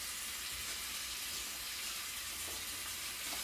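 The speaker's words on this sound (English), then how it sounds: "let me go ahead and rinse a little bit" Running water hisses steadily from a tap as a razor is rinsed under it, forming an even, close, moderately loud wash of sound with no talking.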